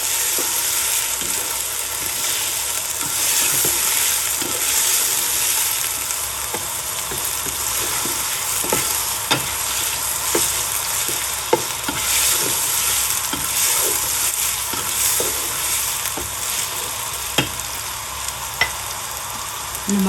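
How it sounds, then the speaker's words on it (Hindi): Washed rice and onions sizzle and hiss steadily in a hot pan for about twenty seconds, broken by occasional scraping and stirring clicks, close and fairly loud with no voices. "अब थोड़ी देर हम इनको फ्राई करेंगे"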